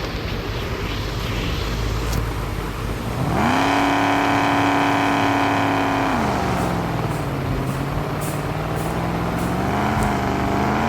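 An off-road vehicle heads down a slope during an off-road test, its engine rising sharply into a loud sustained whine, then dropping to a lower steady drone with slight pitch wavers, all close to the microphone.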